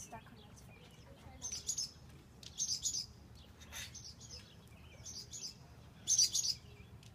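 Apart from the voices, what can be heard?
baby bird chirping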